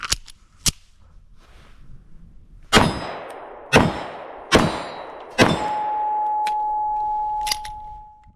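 A Sig P365XL Spectre Comp pistol fires test rounds during load testing: four sharp, loud shots about a second apart, each with a short echoing tail, followed by a lingering steady ring.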